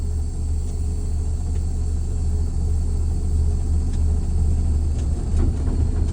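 A truck tugs forward against its held tractor brake during a CDL air brake test, its engine a steady low rumble that swells slightly as it strains, continuous and close with no talk.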